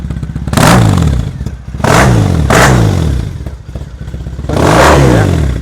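A Triumph Thruxton 900 motorcycle engine idles and blips, its low throbbing rumble rising in several loud surges before settling back.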